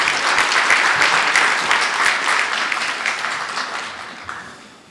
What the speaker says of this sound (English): Let's welcome him with a thunderous round of applause.